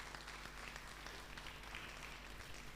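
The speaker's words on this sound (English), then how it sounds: "So give yourself a round of applause." Applause from an audience at an entrepreneur empowerment program event, a steady wash of clapping heard faintly and evenly throughout with no distinct individual claps.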